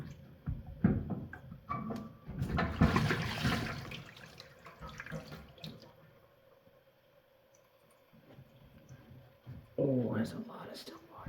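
Water gushes out of a 2002 Kenmore stacked washer during drain pump replacement, splashing loudly in bursts near the start, then trickling quietly before another close splash; a person talks over it.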